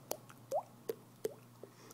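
A voice imitates a water drop with the mouth, beatbox style: four or five short, quiet, pitched plopping pops spaced about a third of a second apart, close and isolated.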